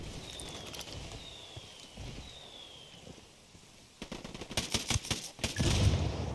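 Gunfire and a called-in mortar strike in the video game Ghost Recon Wildlands: a faint, quiet stretch of ambience gives way to a cluster of sharp distant shots and pops, followed by a heavier, louder burst near the end.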